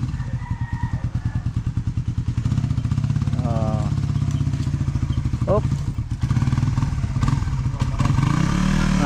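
A motorcycle engine idles close by with a steady, rapid chugging pulse throughout, while people talk briefly over it.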